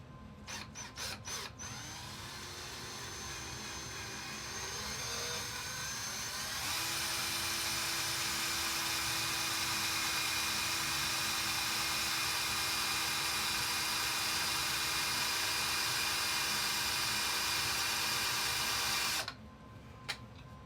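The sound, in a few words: electric drill drilling a hole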